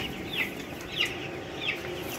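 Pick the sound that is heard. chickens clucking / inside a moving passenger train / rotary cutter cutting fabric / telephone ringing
chickens clucking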